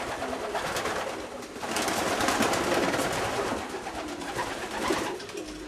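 Racing pigeons coo in a breeding loft, many birds calling at once in a dense, continuous murmur of soft throaty coos, close and steady throughout.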